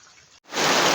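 Rain starts pouring during a fishing outing, a sudden dense hiss that swells up loud after a brief silent gap and continues steadily.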